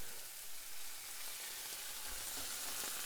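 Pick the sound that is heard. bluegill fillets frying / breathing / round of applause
bluegill fillets frying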